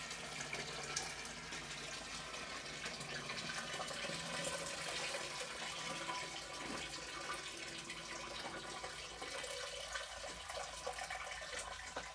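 Wort draining from a lifted mash tun during an all-grain brew day for an American honey pale ale, a steady rushing, splashing trickle of liquid running continuously and fairly close.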